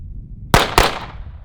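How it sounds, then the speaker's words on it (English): Two sharp pistol shots fired at a target on a range, about a quarter second apart, loud and close with a short ringing decay after each, over a low background rumble. "Did you see those two shots?"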